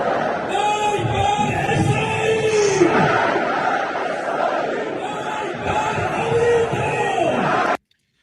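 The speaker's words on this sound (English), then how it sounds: "Can you guess what these people are chanting? Look at the size of this crowd." A large crowd chants in unison, loud rhythmic massed voices rising and falling in repeated waves with yells mixed in, before cutting off abruptly.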